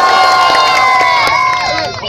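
A crowd cheering and shouting loudly and continuously at a rap battle, with whistles and high shrill cries over a dense roar that eases slightly near the end.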